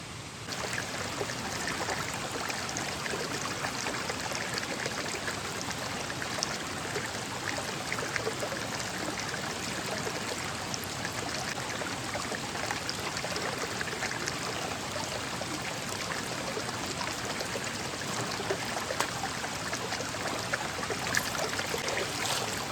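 Steady rushing stream water flows through a dense forest, a continuous broadband wash that stays even and unbroken throughout with no voices present.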